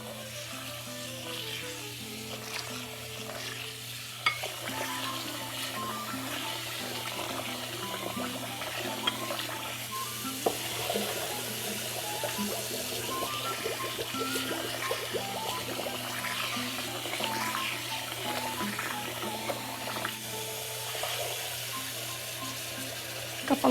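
Long-grain basmati rice is washed in a bowl with cold tap water, with continuous close sloshing, swishing and trickling over a steady low hum, plus scattered light clinks, for over twenty seconds.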